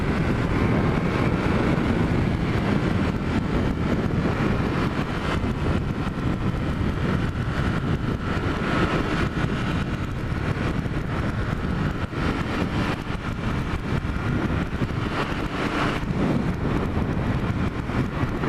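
A Ducati Supersport S motorcycle cruising steadily in fifth gear on the freeway, heard as a dense continuous rush of wind and road noise over a low engine drone, loud and unbroken with no talk.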